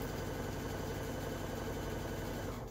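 A sewing machine stitches a fabric seam for an infinity scarf with a steady, continuous mechanical whir and hum, close and alone, stopping at the very end.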